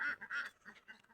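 A few ducks on a wetland beside a flooded, muddy road give a quick run of nasal quacks, fairly faint and somewhat distant.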